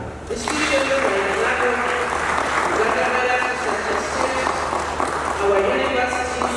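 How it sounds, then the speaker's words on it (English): An audience at a Kololo event applauds for universities and research institutions, sustained clapping filling the room, with a voice speaking over it. "Let us give them a hand clap."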